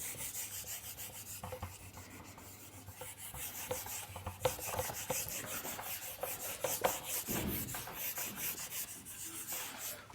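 An eraser or duster rubs writing off a classroom board during a chemistry lesson, producing steady scratchy strokes that swell and fade for about ten seconds, fairly close, with no talking.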